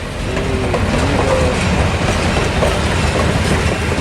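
Loud, steady rumble of diesel locomotives, a U25B and an E8A, rolling past close by, with rhythmic wheel clatter and faint metallic squeals over the rails.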